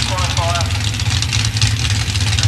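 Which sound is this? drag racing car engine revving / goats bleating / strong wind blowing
drag racing car engine revving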